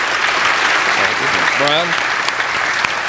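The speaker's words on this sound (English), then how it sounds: "So can we give our candidates a round of applause?" Audience of over 200 people applauds the candidates at a university gubernatorial debate finale, dense steady clapping throughout with a voice speaking briefly over it midway.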